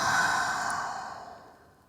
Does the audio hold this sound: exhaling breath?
yes